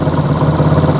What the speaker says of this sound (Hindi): ये आप देख रहे हैं इंजन के आरपीएम यहाँ पे ज़्यादा हो गए हैं